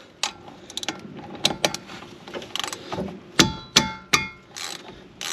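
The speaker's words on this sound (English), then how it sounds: "We're going to take off the caliper bolts." A 13mm wrench loosens brake caliper bolts on a car with a seized, sticking caliper: a series of sharp metallic ratchet clicks and clanks, the loudest evenly spaced near the end.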